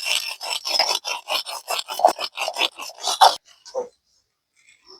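Roasted cumin seeds are ground into powder in a rapid series of about a dozen close, rasping grinding strokes that stop abruptly, followed by a couple of faint scrapes and then quiet.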